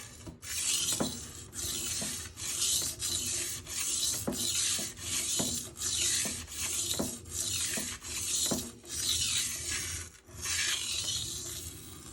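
An S35VN steel knife is beveled on a Rockstar 320 grit stone, with rhythmic back-and-forth gritty scraping strokes, about a dozen in even succession, close and fairly loud.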